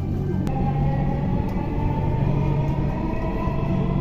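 A Dhaka metro train runs between stations toward Uttara North, a steady low rumble and hum from inside the carriage with a couple of faint clicks.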